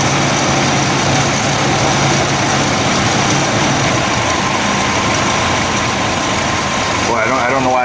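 A Chevy S-10 pickup engine idles steadily and loudly close by, with a continuous low rumble that cuts off near the end as it is shut off.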